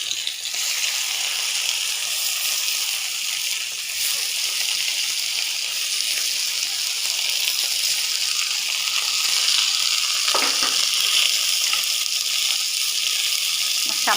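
Garlic paste sizzling steadily in a pan while being stirred, a constant bright hiss throughout with an occasional scrape of the spoon, fairly loud and close.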